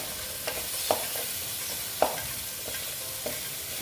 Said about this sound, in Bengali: তারপর আমি দিয়ে দিচ্ছি কাশ্মীরি লাল লঙ্কার গুঁড়ো এটা কালারের জন্য তোমরা তো সবাই জানো এটা আর কি বলবো দিয়ে একটু কষিয়ে নিচ্ছি